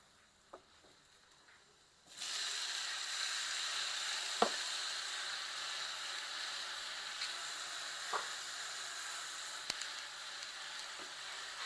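Tomatoes dropped into a hot pan with chopped garlic for egg tomato soup, setting off a sudden loud sizzle that holds steady, with a few sharp utensil clicks through it and no talking.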